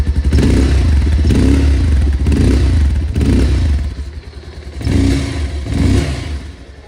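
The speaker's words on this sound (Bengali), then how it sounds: "220 এর এক্সস্ট সাউন্ড" A Bajaj Pulsar 220F motorcycle idles and revs nearby, its exhaust giving a loud, deep, throbbing rumble that rises in several repeated throttle blips with brief dips between.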